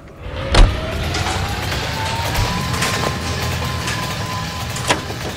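A car engine hums steadily in LA Noire as the vehicle drives off, a rising whine of acceleration over road noise with a couple of soft thumps, no voices.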